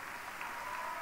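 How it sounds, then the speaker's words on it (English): Audience at the Ohio GOP state dinner gives Governor Bobby Jindal a round of applause as he leaves, a brief, even stretch of distant clapping at moderate level. "How about one more round of applause for Governor Jindal as he heads out?"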